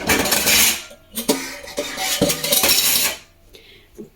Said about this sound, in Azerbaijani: Qabları ki götürsən, qaşıqlar ki dağılır ha.